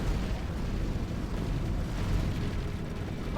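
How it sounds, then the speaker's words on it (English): Heavy rumbling blast from a real-time strategy battle in Ground Control 2, a continuous low roar filling the whole stretch without a clear single hit, with game voices faintly in the mix. "Explosion."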